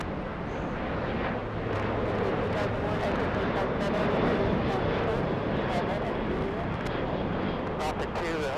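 American Airlines Boeing 777 moving at LAX, a loud continuous engine rumble and roar that stays steady throughout, with a person talking over it.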